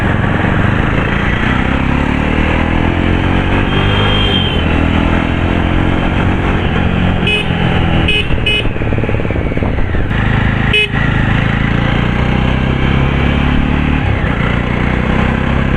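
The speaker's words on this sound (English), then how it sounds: "the exhaust note is kind of resembling a Triumph motorcycle, because it's quite whistly" A Jawa Classic 300 BS6 motorcycle's exhaust while riding, with a whistly note and slight top-end buzz: a loud, steady engine drone that holds through the ride with brief rises in pitch.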